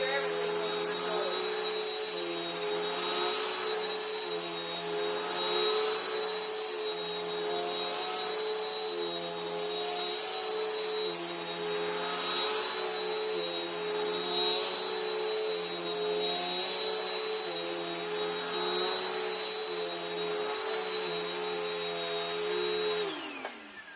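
Bissell Powerlifter Bagged Pet vacuum cleaner running steadily and close, a loud continuous motor whine with a high tonal hum that holds for the full stretch before cutting off at the end.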